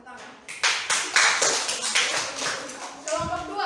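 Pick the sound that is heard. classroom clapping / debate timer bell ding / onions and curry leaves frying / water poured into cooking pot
classroom clapping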